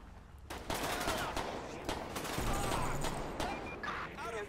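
Police open fire in GTA 5 with a long, dense volley of rapid gunshots, loud and close, running almost without a break and with faint shouts mixed in.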